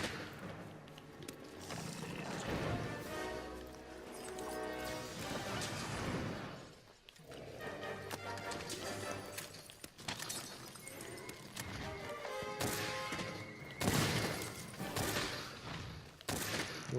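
A heavy bowgun fires piercing ammo in Monster Hunter World, sending out repeated loud booming shots in a dense, sustained barrage with roaring monster and battle noise mixed in.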